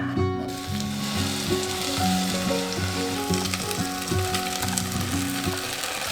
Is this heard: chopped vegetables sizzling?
yes